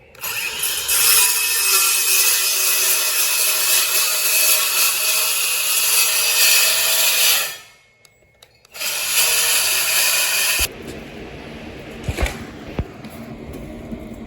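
A power saw cuts through a wooden kitchen cabinet for a mobile home, with a loud sustained whine for about seven seconds, a brief pause, another short burst, then quieter knocks and handling of the wood.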